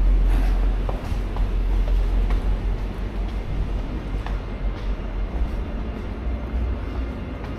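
A double-decker train passes near the station in Sundbyberg, a steady loud rumble of wheels and engine that fills the whole stretch with low roar, heard from the street with no talking.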